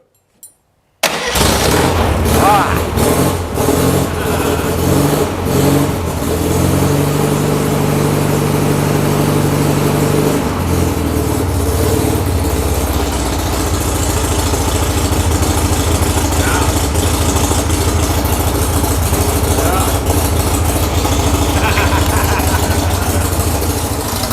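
An old VW Beetle engine cranks over and catches, then settles into a steady, loud running idle with a brief higher rev in the middle, close by and continuous throughout.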